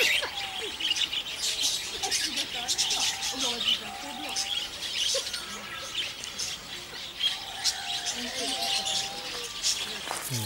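Parakeets, including red-rumped parakeets, and Eurasian collared doves in a park aviary, with dense overlapping chirps, tweets and squawks throughout, a few soft coos underneath and a faint voice in the background.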